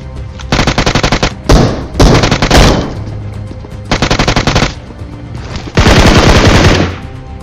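Loud, rapid automatic gunfire from a mobile shooting video game comes in several close bursts of about one second each, separated by brief pauses, with one longer sustained burst near the end.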